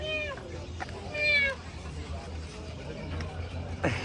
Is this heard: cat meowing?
yes